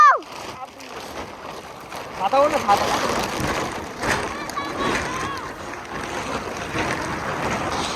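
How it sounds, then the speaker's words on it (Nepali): Heavy rain pours at a high hilltop spot in Ilam, Nepal, a loud wash of rain and gusting wind over a nearby phone, with people talking throughout. "ठुलो पानी पर्छ त हेर्छ गाइसहरू, ठुलो पानी पर्छ।"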